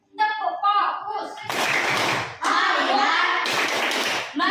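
Children doing a classroom clapping game, chanting together with sharp bursts of clapping between the spoken lines.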